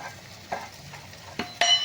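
Garam masala being stirred into masala khichdi in a pot, a soft steady scraping and stir with a few sharper spoon knocks and a brighter clink near the end, no talking.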